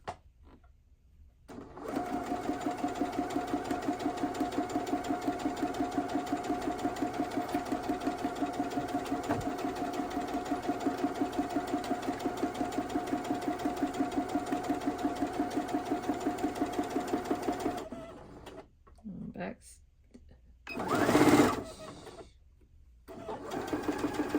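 A sewing machine stitches quilt fabric in a steady, rapid mechanical rhythm for about sixteen seconds, then stops, followed by a few brief handling noises and a short burst of rustling.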